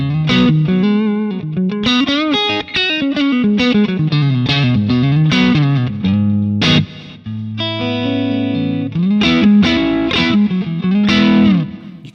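An electric guitar played through a Fender Bandmaster amp with a clean tone rings out in chords and short melodic phrases with sustained notes, loud and alone with no voices.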